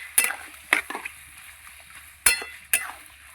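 Mutton is stirred in a pot while cooking, with a handful of sharp metal spoon scrapes and clinks against the pot over a faint sizzle, each stroke close and distinct.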